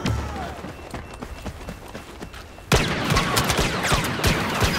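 Heavy gunfire from a big intimidating gun in a Star Wars Battlefront Outer Rim match, with busy rapid shots that jump sharply louder partway through and keep crackling dense and close.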